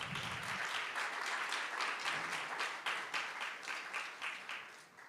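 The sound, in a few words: audience applause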